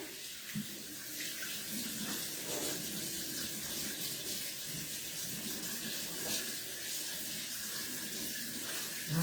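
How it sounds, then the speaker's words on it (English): Running tap water pours steadily as flour is rinsed off hands at a sink, a continuous close splashing hiss with no talk over it. "Wash off the flour off of my hands."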